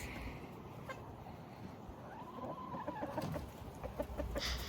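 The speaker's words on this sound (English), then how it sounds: "Here's the chickens" Chickens cluck softly at a moderate distance against quiet outdoor ambience, with a few scattered calls and light rustling.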